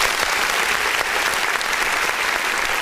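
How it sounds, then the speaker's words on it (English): Applause sound effect triggered from a button during a live music review stream, a steady uniform wash of crowd clapping held at even loudness throughout. "let me go over here and hit the button that allows us to clap for"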